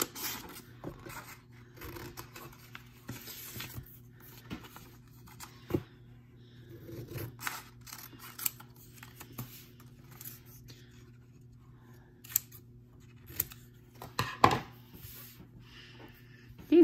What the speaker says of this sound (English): we need to go ahead and cut out our letter tiles